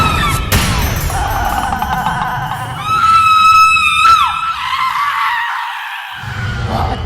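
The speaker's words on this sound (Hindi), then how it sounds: "आप चिल्ला क्यों रही है?" Someone shouts loudly in a Hindi drama scene, her voice rising into a sustained, strained cry in the middle, with a couple of sharp bangs nearby and a noisy room behind her.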